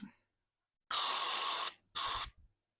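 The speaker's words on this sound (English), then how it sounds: "And again, a little bit of contact cleaner." Contact cleaner sprayed onto the motor of a Tineco Floor One S3 floor cleaner, two close hissing aerosol bursts, a long one of nearly a second followed by a shorter one, each cutting off sharply.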